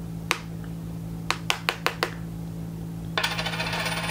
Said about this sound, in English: Coins.